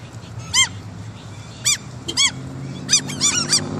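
Seagulls give sharp, squealing calls while being hand-fed beside a car, with several separate cries and a cluster of overlapping calls close by near the end.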